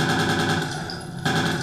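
Rapid automatic gunfire from the video game Interstellar Marines rattles in a fast, even burst, fairly loud and close, with a brief break before it resumes.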